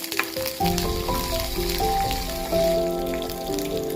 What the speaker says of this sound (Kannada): ಇವಾಗ ಕಡಲೆಬೇಳೆ ಹಾಕ್ತಾ ಇದ್ದೀನಿ